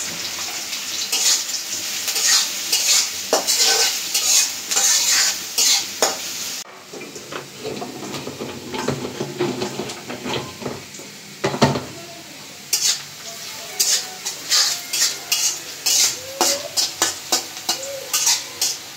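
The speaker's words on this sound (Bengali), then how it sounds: "তেল গরম হয়ে গেছে, দিয়ে দিব পেঁয়াজ। দিয়ে দিব কাঁচামরিচ।" Onions and green chilies hitting hot oil in a village kitchen pan, bursts of sizzling and spoon stirring with watery splashy crackle, a sudden shift partway through, close and fairly loud, no talking.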